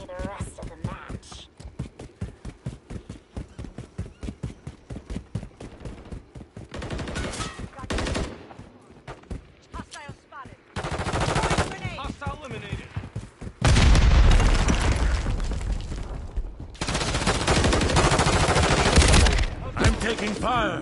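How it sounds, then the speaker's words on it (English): Call of Duty Modern Warfare 3 multiplayer on the Vista Del Mar map: rapid close machine-gun bursts give way to heavier booming shots and loud sustained fire, with voices calling out in between. "Taking effective fire."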